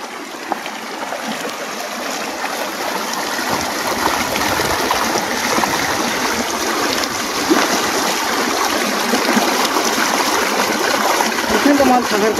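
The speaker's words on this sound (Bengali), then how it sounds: "দেখো জলের কিন্তু বিশাল টান হচ্ছে" A strong river current in the Sundarbans makes a steady, close rushing and gurgling of water that continues without a break and swells slightly over time.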